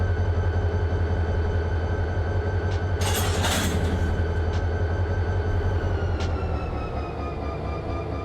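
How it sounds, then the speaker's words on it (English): A freight train rumbles steadily close by in the Run 8 train simulator, set around Bakersfield, with a constant low engine drone, wheel noise and a brief hissing burst partway through. "trains are loud, so it's going to be really loud when we're out here next to it"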